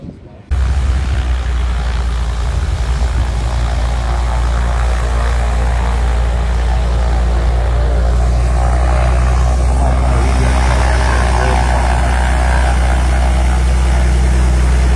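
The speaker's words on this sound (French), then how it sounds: "Il y a un avion qui vient d'atterrir." A propeller airplane landing near a no-prep drag race track makes a loud, steady droning roar that holds without a break and fills the whole stretch, close and heavy.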